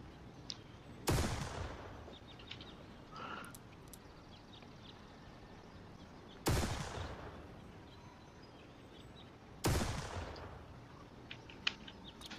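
Three loud, isolated gunshots from a powerful wall-piercing gun in the video game IGI 2, each a sharp blast with a decaying tail, spaced several seconds apart over faint background ambience.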